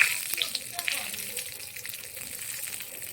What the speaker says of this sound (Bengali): আমি জিরাটা ছেড়ে দেবো তেজপাতাও দিয়ে দেবো